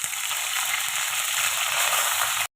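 Cumin and mustard seeds sizzle and crackle in hot oil, a steady loud frying hiss with rapid popping that runs continuously, then stops abruptly.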